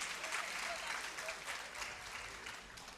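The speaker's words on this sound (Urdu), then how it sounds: "آپ لوگوں کو اپنی تالیوں میں بھی ویلکم کرنا چاہیے ہمارے تمام پینلسٹ کو." An audience at the 18th Aalmi Urdu Conference gives sustained, steady applause to welcome the panelists, a dense clapping that holds at an even level with a faint hint of voices underneath.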